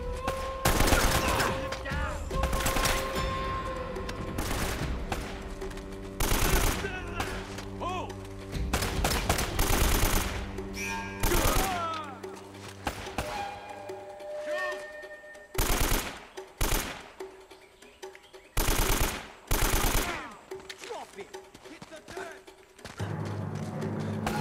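Rapid bursts of automatic gunfire and single shots from Uncharted: Drake's Fortune, loud and close, in clustered volleys with brief gaps, layered over game music and effects.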